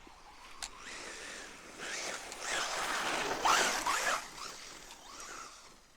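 A Traxxas Slash 4x4 RC truck on a park bash outing whines past at speed, a high electric-motor buzz rising as it nears, peaking briefly, then fading away.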